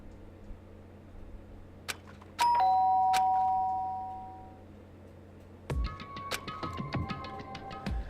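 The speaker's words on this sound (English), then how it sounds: "did I hear the doorbell?" A doorbell chime in Danganronpa: Trigger Happy Havoc rings out loud and bright with a sustained ringing tone, followed by a cluster of sharper electronic chime notes against quiet background music.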